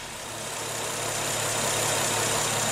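Honda Accord 3.5L V6 engine idling while warming up gives a steady, even hum with a low rumble, slowly getting a touch louder, close and with no talking.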